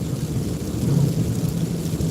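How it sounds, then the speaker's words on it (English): Rain falls during a night drive, a dense, steady rumble and hiss with a low, continuous drone from inside the car, loud and close with no talk. "I can hear the rain and your windshield wipers"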